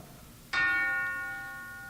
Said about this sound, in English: Then the big bell struck 1.